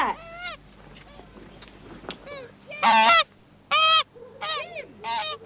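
Several geese honk loudly at close range in repeated bursts, harsh nasal calls coming in clusters with short pauses, sometimes overlapping one another.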